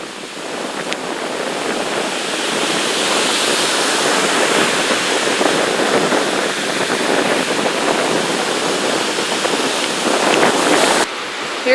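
Surf washing onto Park Point Beach in Duluth, a steady broad rush of waves mixed with wind noise on the microphone, loud and continuous with no talking.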